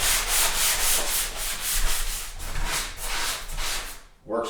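A drywall sanding sponge, rough on one side and smoother on the other, rubs back and forth across a contoured surface in steady, close, scratchy strokes that repeat about twice a second, ending with a brief pause.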